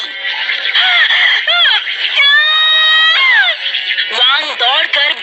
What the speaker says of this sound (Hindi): तभी उसे किन की चीख सुनाई दी।